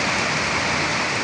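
Steady dense rain pouring onto a road in the first rain after a long dry spell, a loud, even hiss with no break and no voices.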